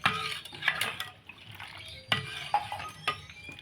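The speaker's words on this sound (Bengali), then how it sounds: "এর মধ্যে আর একটু জল দিয়ে দেব।" Water is poured into a bowl while fuchka filling is prepared, short splashes and trickles mixed with light clinks of a utensil against the bowl, close and fairly quiet.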